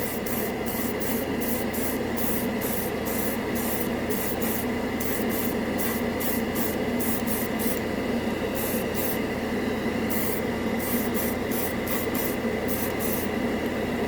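Airbrush hissing a steady stream of air across freshly sprayed red primer, a continuous, even rush with faint rhythmic pulsing.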